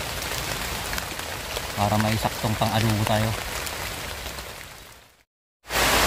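Heavy rain pours in a constant loud hiss. Someone talks over it in the middle, and the sound cuts off abruptly near the end.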